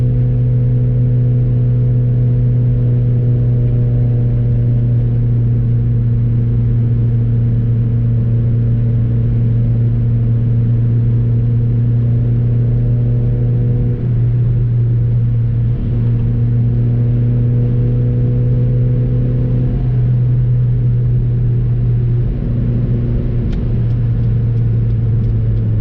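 1993 Subaru Vivio kei car with a factory manual gearbox cruising at about 50, its small engine giving a steady, loud drone with slight pitch shifts as the throttle changes, no voices.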